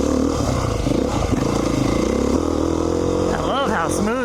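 A 2019 Beta 500 RR-S four-stroke dual-sport motorcycle runs with a steady, loud engine drone throughout, and its pitch sweeps up and down in a few quick revs near the end.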